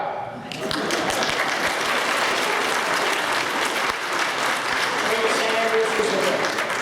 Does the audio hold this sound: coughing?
no